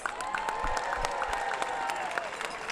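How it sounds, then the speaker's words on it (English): A crowd at the MLP San Clemente Challenger pickleball final applauds the runner-up team, Chicago Slice, with steady scattered clapping and a faint cheer, while a tonal hum runs underneath. "Let's go ahead and give a big round of applause for the runner-up"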